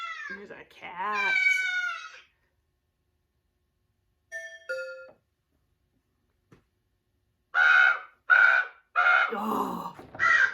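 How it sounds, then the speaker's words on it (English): A cat meows in a drawn-out rising and falling call at the start, followed by a brief chime and then several loud, harsh crow caws in quick succession near the end. "Here's a cat."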